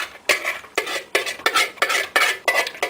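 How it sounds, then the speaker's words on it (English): Repeated bursts of boiling water and wheat poured and scraped into a 32-ounce metal thermos, about seven uneven pulses close up, with grainy rattling and sloshing. "we pour our boiling water and wheat into the thermos"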